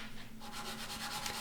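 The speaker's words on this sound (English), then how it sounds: "Lots of sanding on this project" Wood being sanded for a bent-wood picture frame, a continuous close rubbing hiss with a faint rhythmic back-and-forth pulse, steady and fairly quiet with no voices.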